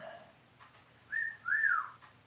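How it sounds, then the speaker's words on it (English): Two rising-and-falling whistles from a person, one short and one longer, sounding clear and fairly close against a quiet background. "My girlfriend's whistling at me."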